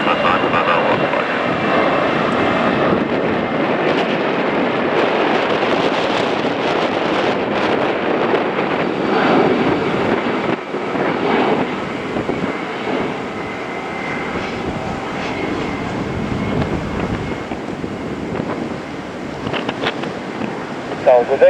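A fixed-wing airliner landing at Dusseldorf Airport roars steadily for over twenty seconds, a broad continuous jet noise with gusting wind buffeting the microphone and voices talking over it.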